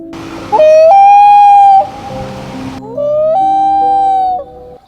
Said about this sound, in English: Top 2, loon bird.